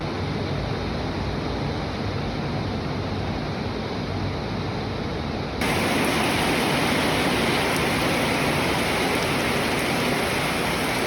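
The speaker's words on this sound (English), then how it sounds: "But it was raining so hard outside" Dense, steady roar of heavy rain outside a bungalow in Koh Lanta, Thailand, filling the whole clip, growing noticeably louder and brighter about halfway through, with no voices.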